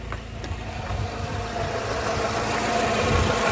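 A Rover 45 Impression S3 with a CVT gearbox idles steadily with a low, even rumble and faint mechanical vibration, heard close and alone.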